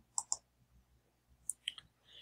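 Mouse clicks while sending an email: two quick clicks close together, then a few more a second later, sharp and near in a quiet room.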